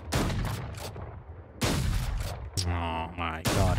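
Bursts of alternate-fire shots from a weapon in the Valorant shooter game, loud rapid volleys in several clusters, close and dense, with game sound effects between them and no talking.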